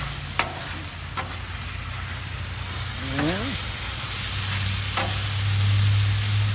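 Iguana meat fajitas fry in a pan with a steady sizzle, broken by occasional utensil clicks and scrapes as the food is stirred, and a faint voice-like sound in the middle.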